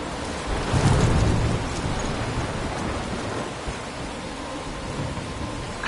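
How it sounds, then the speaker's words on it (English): Heavy thunderstorm in the video game Life is Strange: steady loud rain with a deep rumble of thunder swelling near the start, then a continuous roaring downpour with no voices. "I'm trapped in a storm?"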